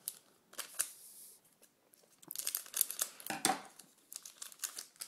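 A Dragon Ball Carddass trading card pack is torn open up close, with bursts of crisp foil crinkling and ripping in irregular clusters separated by short quiet gaps.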